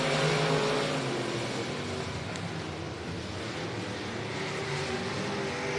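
Limited modified race cars roar around the Boothill Speedway track at the green flag, a loud, dense wash of engines with revs rising and falling as the pack passes.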